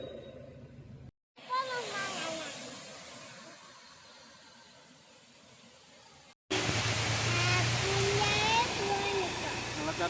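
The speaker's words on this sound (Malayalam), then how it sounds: "ഇതാണ് നമ്മൾ അവിടെ നിന്ന് കാണുന്ന വെള്ളച്ചാട്ടം" Waterfall water roars in a steady wash at Vadakkanmedu, broken by two abrupt cuts, louder and brighter after the second break.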